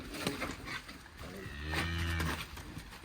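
A fat beef cow lets out a deep, drawn-out moo near the middle, close by, with faint farmyard rustling around it.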